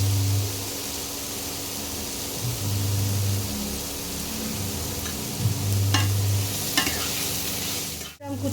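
Egg chicken fried rice with black pepper frying in a pan, a steady close sizzle with repeated scraping stir strokes and clattering spatula taps throughout, no talk.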